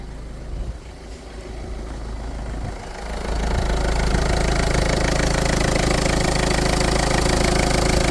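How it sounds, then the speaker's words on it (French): A 1.4 HDi diesel car engine idles steadily, a continuous mid-pitched hum with a faint knocking texture that grows fuller and louder after about three seconds, then holds even to the end with no voices. "Donc là le moteur il tourne bien"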